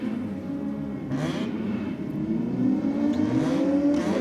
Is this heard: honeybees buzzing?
no